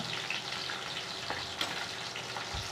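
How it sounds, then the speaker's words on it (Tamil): Garlic and curry leaves fry in hot oil for a sundakai kulambu, giving a steady, close, loud sizzle with faint stirring clatter throughout. "இப்போ பூண்டு போட்டு போடுவோம் இந்த கருவேப்பிலை போட்டுக்கோங்க"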